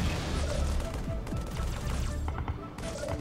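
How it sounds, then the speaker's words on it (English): Heavy gunfire erupts in a strategy video game battle, with rapid overlapping bursts and shots crackling densely and loudly over a low rumble, briefly easing before resuming. "Cargo 1 is taking heavy fire"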